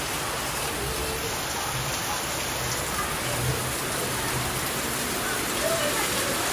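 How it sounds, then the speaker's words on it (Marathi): Steady, dense rainfall hisses continuously outdoors, even and unbroken throughout. "पाऊस बघा किती पडतोय बाहेर"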